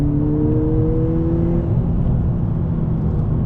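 A 2020 Honda Civic Si with a 1.5-liter engine pulls steadily on a mountain road, heard from the cabin as a loud, continuous rising drone with a rumbling low end.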